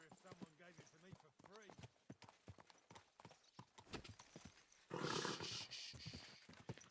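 Horse hooves clip-clop steadily through the medieval game Kingdom Come Deliverance 2, a close, rhythmic run of hoof strikes with someone talking over them and a louder rustling burst toward the end.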